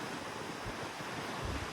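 Strong wind buffets the open deck of a cruise ship at sea in the Caribbean, a steady, loud, broadband rush with low gusty rumbles and no speech.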